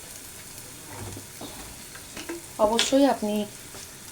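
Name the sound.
spices being sautéed in hot oil in a pan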